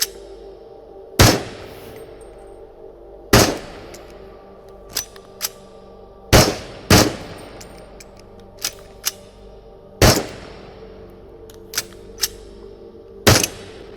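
Single shots from a rusty, worn-out gun in the VR game Into the Radius ring out one at a time, sharp and loud with short decays, spaced irregularly over a low steady hum, each followed by small mechanical clicks.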